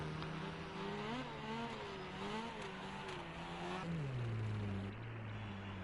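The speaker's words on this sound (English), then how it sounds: "you can hear him just blipping the throttle" A race car engine in the video game Rally Fighters drones steadily, its pitch wavering as the throttle is eased and blipped. Near the end the pitch drops into a lower, steadier hum, with no voices.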